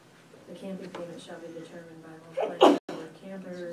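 A single sharp sneeze cuts through a board of trustees meeting, with someone speaking steadily before and after it.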